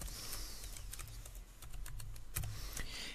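Faint, scattered keystrokes on a computer keyboard while text is entered into a calendar template, quiet taps over a low background hum.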